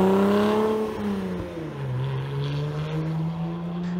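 Porsche 987.2 Boxster/Cayman with a 2.9-liter engine and Soul valved exhaust, a loud, steady, deep exhaust note that dips and rises slightly as the revs change, heard alone without talking.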